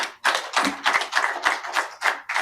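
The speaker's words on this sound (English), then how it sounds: "Another round of applause" A small audience claps after a talk on bamboo and African livelihoods, a close, fairly sparse burst of hand claps in an uneven rhythm lasting a couple of seconds.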